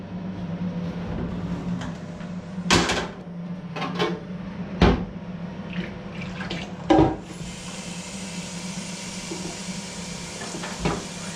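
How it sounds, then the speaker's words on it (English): Hot water runs from a kitchen tap during home brewing: a steady stream flows throughout at close range, with a low hum underneath and several sharp knocks and clunks of containers or fittings. "Now I'm going to get a bit of hot water."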